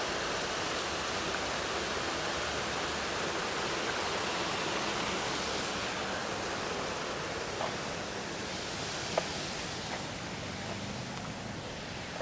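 Steady rushing of water pouring through a dam, a continuous broadband roar with no pauses, moderately loud and close.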